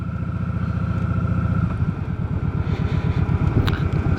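Motorcycle engine running steadily during a ride, a loud, close, throbbing low rumble with a regular pulsing beat and light wind noise, no voices.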